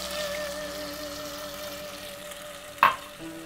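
Soy sauce hits hot caramelized sugar and oil in a pan, a brief sharp sizzle burst over a steady low frying hiss.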